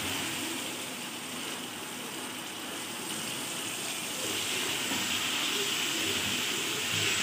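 Chicken and tomatoes fry in a pan for Murgh Cholay, giving a steady, close hiss of sizzling that holds level and swells slightly toward the end, with no talk over it.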